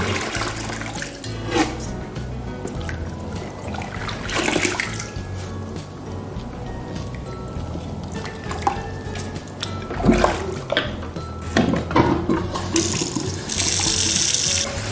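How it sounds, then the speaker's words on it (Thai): Vegetables are rinsed under a running tap. Water gushes steadily into a sink, the splashing rises and falls as the produce is handled, and there are occasional clunks. "นำมาล้างด้วยน้ำเปล่ารอบหนึ่งนะครับ"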